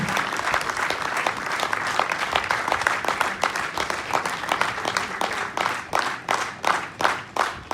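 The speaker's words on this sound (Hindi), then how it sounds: "एक बार जोरदार तालियां मिस्टर जावेद सर" An audience in a hall breaks into loud applause that starts as a dense wash and thins into slower, distinct rhythmic claps toward the end.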